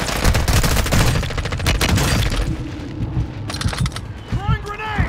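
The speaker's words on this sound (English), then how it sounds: "Friendly precision airstrike inbound." Dense rapid bursts of explosions and gunfire pound close and loud in Warzone 2 battle royale gameplay, a rolling fusillade of booms that thins and returns, with brief voice lines in between.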